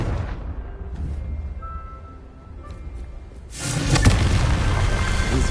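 The Confringo explosive spell in the video game Hogwarts Legacy goes off as a loud, broad boom after a quieter stretch of ambient game sound, then a rumbling tail continues to the end.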